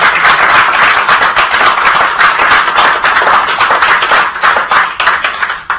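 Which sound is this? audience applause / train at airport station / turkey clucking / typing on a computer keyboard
audience applause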